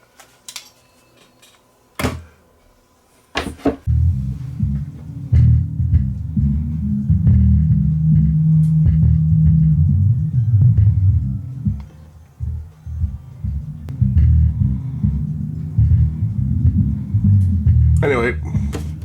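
Paradigm PDR10 subwoofer, repaired after a blown fuse, plays a loud, steady low rumble after a few thumps, continuing for most of the span with brief dips.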